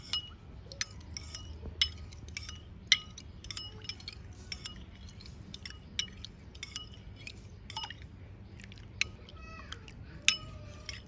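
Egg and leaf juice whisked together in a bowl for a hair treatment, giving repeated light clinks and taps of utensil against the bowl at an irregular pace over a low background hum.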